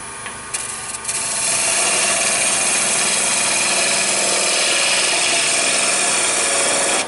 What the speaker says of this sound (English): it's making nice long shavings